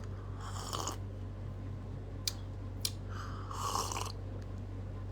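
Tablets being chewed close to the mouth: a few muffled crunching bites with sharp clicks between them, over a low steady hum and otherwise quiet room.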